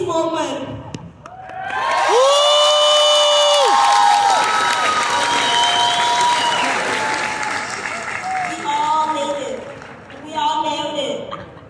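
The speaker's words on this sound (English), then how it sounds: "So please give the biggest applause to congratulate ourselves." A graduation assembly crowd breaks into loud sustained applause with cheers and whoops, with voices mixed in, then the clapping tapers off before a brief final swell.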